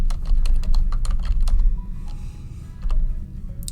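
Rapid bursts of keystrokes on a computer keyboard, close and fairly loud, with short pauses between runs of clicks and no talking.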